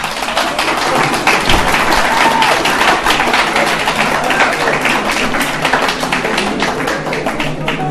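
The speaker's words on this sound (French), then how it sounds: "C'est bien d'applaudir" A hall audience at a public talk in Nice breaks into steady, dense applause, many hands clapping loudly and continuously without pause.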